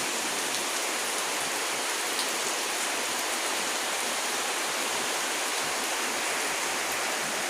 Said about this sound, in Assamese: बारिश आ रहा है ना